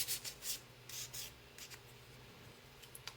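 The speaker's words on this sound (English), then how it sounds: "let's go ahead and sand this wreath" A wooden Christmas wreath being sanded by hand, heard as soft, faint rubbing strokes in short bursts with pauses, close up and without talk over a low background hum.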